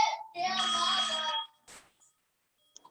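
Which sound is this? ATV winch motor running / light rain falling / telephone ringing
telephone ringing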